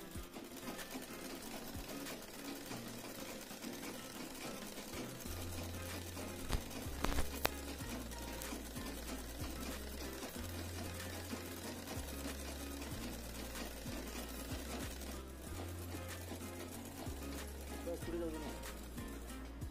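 A sewing machine stitching soft velcro around the edge of a window mosquito net, a steady motor hum with rapid needle patter in stop-start runs, heard under a voice talking.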